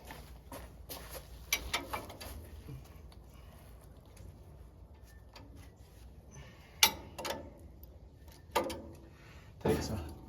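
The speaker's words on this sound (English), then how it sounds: "Just have to undo these nuts here on the bottom and loosens that bracket there up." Wrench clicks and metallic taps as nuts are undone on the bottom bracket of a Farmall 130 tractor, scattered short knocks with a few louder clanks near the end, over a quiet background.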